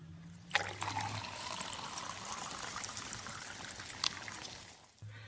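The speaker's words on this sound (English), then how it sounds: "Paul, can you just pour water into my mouth?" Water poured into a person's mouth during a gaming break: a steady trickling pour runs for about four seconds, close and fairly quiet, with a couple of brief splashy spikes before it tapers off.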